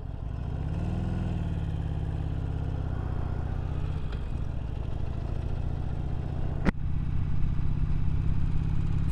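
A 2019 Harley-Davidson Sportster Iron 1200 V-twin rumbles loudly while being ridden, engine note rising and settling with wind noise and a sharp clack partway through.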